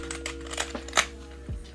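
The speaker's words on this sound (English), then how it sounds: "So if you don't like clicky keyboards" A clicky LED keyboard is typed on in several sharp, close keystrokes at an uneven pace, with one louder clack near the middle.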